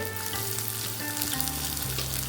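Finely chopped onions frying in a pan toward golden for Rajasthani dal baati make a continuous close sizzle and crackle, with occasional stirring scrapes and no talking.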